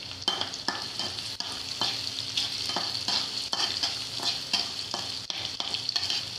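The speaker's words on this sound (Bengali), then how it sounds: "এখন এলাচ আর দারচিনি দিয়ে পেঁয়াজের সাথে ভেজে নিব।" Onions frying in hot oil with cardamom and cinnamon, a steady close sizzle broken by repeated scraping stirs of a spatula in the pan.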